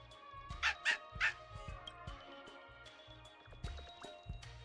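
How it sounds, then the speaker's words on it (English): Cute puppy in the video game Honkai: Star Rail, a few high yips and barks near the start followed by soft whimpers over a low game backdrop, alone without talk. "Our Ting Yun is distracting us with this cute pup."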